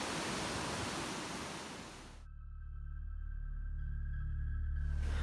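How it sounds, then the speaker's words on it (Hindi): Broadband roar of a large mountain river along the Karakoram Highway in northern Pakistan, loud and continuous at the start, then abruptly cut to a quieter steady low rumble with faint tonal hum before the rushing noise returns at the end. "दरिया का शोर और ठाठे माता पानी"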